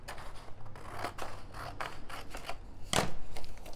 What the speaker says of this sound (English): we're gonna take this piece of cardstock. And I think what we're gonna do is we're gonna cut it right down the middle, just like this.